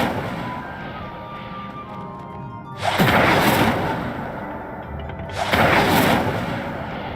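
Two heavy whooshing blasts of the Incendio fire spell in the Hogwarts Legacy video game, each a loud burst that swells and fades, a few seconds apart over a low ambient backdrop.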